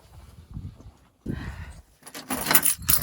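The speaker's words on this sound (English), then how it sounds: "Got the keys." Truck keys jangle in short metallic bursts after a winter hike, with a quiet pause in between and rustling handling noise near the end.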